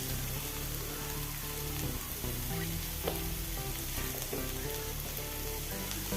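Vegetables and spring onion are stirred as they fry in a pan for vegetable fried rice, with a steady loud sizzle and scraping stirs. The sizzle runs without a break, and no one speaks.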